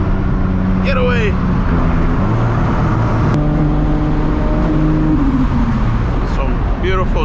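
A Toyota Supra MK4 with a turbocharged, fuel-injected engine of over 1000 HP, heard from inside while accelerating in traffic: a loud, close engine drone that rises in pitch, with brief talk over it.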